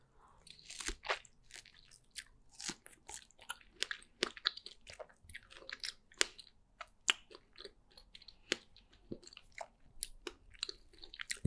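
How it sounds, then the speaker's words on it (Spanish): Close, quiet ASMR mouth sounds fill the clip: irregular wet crunches, bites and chewing with saliva clicks, scattered steadily and heard alone without speech. "Los sonidos de saliva o de masticación no son para todos."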